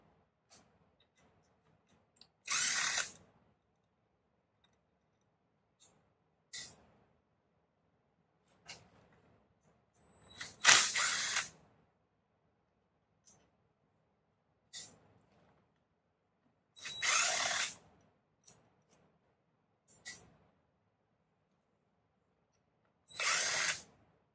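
A power screwdriver backing out the screws on the cover of a Holley Sniper 2 EFI unit, several short whirring bursts separated by quiet pauses and faint handling clicks, close and fairly quiet.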